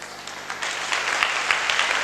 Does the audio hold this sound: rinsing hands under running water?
no